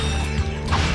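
Dense clattering bolt-pickup chimes and metallic mechanical rattling in the Ratchet and Clank game, loud and continuous with no speech.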